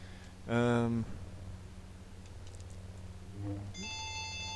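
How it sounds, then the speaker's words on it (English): A phone gives a short electronic ring, then a second brief tone sounds a few seconds later, both clear against quiet background noise. "that's my phone"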